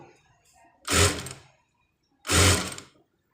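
Two loud bursts of an electric sewing machine stitching the back piece of a prince-cut blouse, each run about half a second of rapid whirring, close up and separated by a quiet pause.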